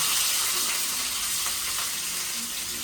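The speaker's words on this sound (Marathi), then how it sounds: "आणि इकडे मी हे 4 बारीक चिरलेले कांदे ते सुद्धा आपण टाकून घेऊया" Finely chopped onions fry in hot oil with garlic and curry leaves, giving a loud, steady, close sizzle that hisses on without a break for about three seconds, with no talking.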